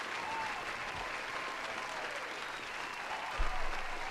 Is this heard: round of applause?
yes